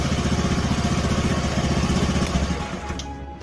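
A Honda Beat scooter with a carburetor fault revs under throttle, its small engine buzzing loud and close with a steady pulsing beat before easing off at the end.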